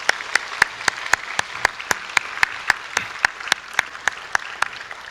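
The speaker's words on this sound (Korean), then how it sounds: "우리가 먼저 하나님께 우리 감사의 마음을 담아 큰 박수를 한번 올려드리겠습니다." A church congregation at a Thanksgiving Sunday worship service in Gwangju claps in an even, rhythmic beat, with loud, regular claps close by over a softer bed of crowd clapping.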